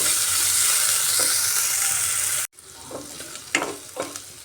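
Chopped onion and ginger sauté in a pan, a bright steady sizzle that cuts off abruptly, then quieter frying with spoon scrapes and stirring knocks up close.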